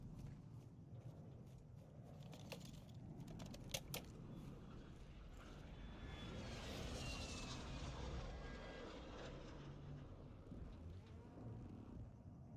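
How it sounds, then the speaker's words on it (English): A recon UAV drone flies over in a video game, a faint, broad aircraft engine drone that slowly swells and fades with some whining tones, set against a low, quiet background with a few clicks. "Requesting recon flyover. Copy that. UAV online and orbiting"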